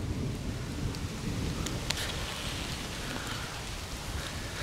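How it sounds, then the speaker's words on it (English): Thunderstorm with rain in suburban bushland: dense, steady rain patter with a low rumble of thunder underneath and a few sharper drop impacts, no voices. "The Lord of Rain and Storms paid us a visit."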